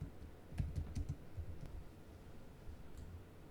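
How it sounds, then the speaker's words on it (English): Computer keyboard typing: a faint, quick cluster of soft key clicks near the start, then scattered light taps over a quiet room background. "You can just type it"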